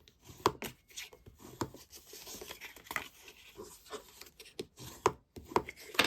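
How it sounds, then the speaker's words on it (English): Score lines on cardstock are burnished with quick, close rubbing strokes, a series of soft scraping swipes and light taps in an irregular rhythm, faint and alone. "Just quickly burnish these score lines, get them nice and crisp."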